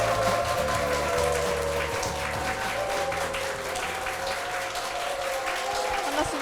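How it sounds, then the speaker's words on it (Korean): A church gathering of ventriloquism association members breaks into loud, sustained applause and cheering, steady and dense throughout, with a low hum of voices and some musical tones underneath. "우리 회원분들의 박수 함성으로 시작을 했습니다"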